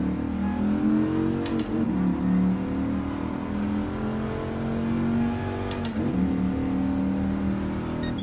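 A fast car's engine drones and revs at high speed in Gran Turismo Sport, pitch rising and falling through gear changes, with two brief sharp ticks along the way.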